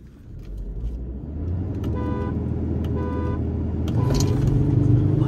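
Three short car horn toots sound in sequence as a drag race start signal over a running engine idling and revving nearby, the last honk followed by a rising engine roar.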